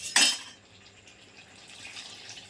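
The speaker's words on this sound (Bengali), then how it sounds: "এবার একটু জল দিয়ে দেবো হালকা করে" A quick splash of water is poured into cooking curry, a short bright burst up close followed by a quiet, faint simmering bubble.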